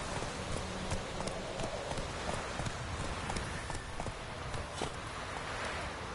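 Horse hooves clip-clopping at a steady pace in The Witcher 3, a quiet, even rhythm of light thuds over a soft ambient background, with no talking.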